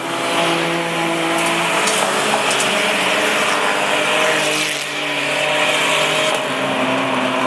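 Junior sedan race cars roar around a speedway oval, a loud sustained engine whine from several cars that swells and dips as they pass close by.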